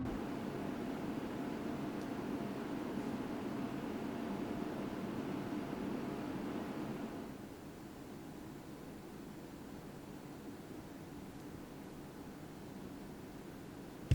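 A steady broadband whoosh of cooling fans runs for about seven seconds, then drops to a quieter, lower hum for the rest.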